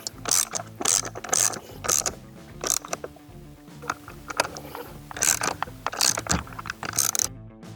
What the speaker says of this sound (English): Now we can tighten up our back bolt